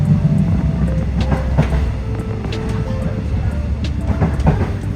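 A slow train rolls along mountain tracks in Korea's Taebaek range with a steady low rumble and occasional rhythmic clacks, loud and close.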